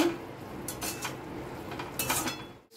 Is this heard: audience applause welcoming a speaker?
no